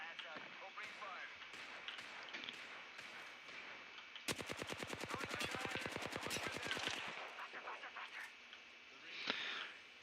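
Gunfire in a shooter video game: scattered single shots, then a long rapid burst of automatic fire with evenly spaced cracks, followed by more shots and a final blast, all at moderate level over game ambience.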